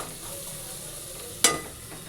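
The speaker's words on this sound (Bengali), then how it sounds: "সবজিটা যতটা ভেজে নেবে ততটা খিচুড়িটা খেতে ভালো লাগবে" Vegetables fry in hot oil for khichuri with a steady, close broadband sizzle, broken near the end by one sharp scrape or clatter of a stirring spoon against the pan before the frying hiss settles again.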